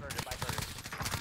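Rapid automatic gunfire shooting through a wall in Call of Duty Warzone, a dense run of close, loud shots with an even rhythm throughout the short burst.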